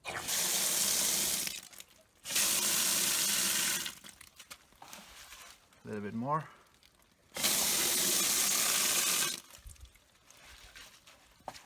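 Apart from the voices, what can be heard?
water poured into a bucket to soak paper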